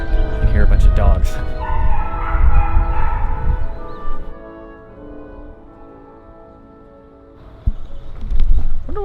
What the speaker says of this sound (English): You can hear a bunch of dogs.